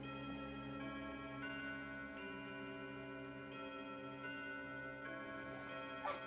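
An old clock ticks steadily and faintly in a quiet room, its regular beat running beneath sustained low tones.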